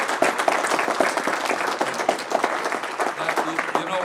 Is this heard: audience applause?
yes